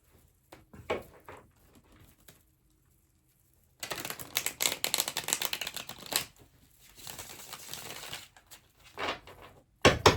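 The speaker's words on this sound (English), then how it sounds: "All right, I want to do one more shuffle." Rapid riffling and flicking of a deck of tarot cards being shuffled close by, in several bursts separated by quiet pauses.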